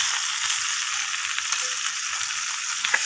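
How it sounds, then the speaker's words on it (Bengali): Spices sizzling and frying in a pan while being stirred and cooked down for a Bengali Saraswati Puja dish, a steady close crackle with small pops and no talk. "তো মশলা অ্যাড করার পর আমি সমস্ত কিছু এইভাবে কষিয়ে নিচ্ছি।"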